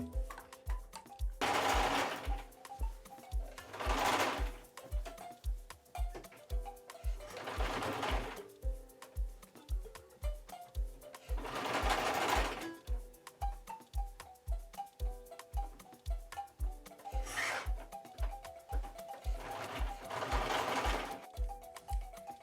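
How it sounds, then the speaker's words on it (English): A sewing machine hems a visor cap in several bursts, its needle chattering in a fast steady rhythm with a low motor whine, each run pausing briefly before starting again, loud and close. "So as you can see, I've hemmed the cap"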